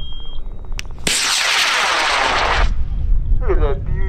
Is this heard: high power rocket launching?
yes